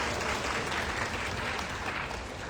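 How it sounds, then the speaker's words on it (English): An audience claps for young story writers at a performance, a dense, even burst of applause that holds steady and loud throughout. "Round of applause to everyone who wrote stories."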